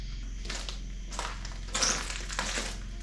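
Broken glass crunches underfoot in an abandoned asylum, a series of gritty, crushing footsteps close by over a low steady hum.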